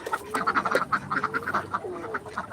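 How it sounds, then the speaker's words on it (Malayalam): A duck quacks in a quick, uneven series of short calls, close by and fairly loud against a quiet yard. "ഇതാ കണ്ടാ താറാവ് താറാവ്"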